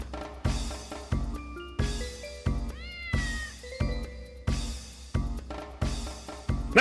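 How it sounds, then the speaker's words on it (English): A cat in the video game Dark Cloud meows repeatedly in short, loud, rhythmic cries, about ten in quick succession, with synthesized tones sliding in the background. "Not so fast, cat!"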